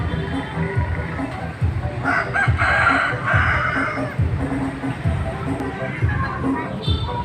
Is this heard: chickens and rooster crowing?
yes